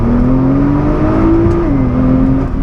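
A 580 BHP Nissan R35 GTR accelerates hard in second gear, its engine droning loud and steady as the pitch climbs, then dips briefly before rising again.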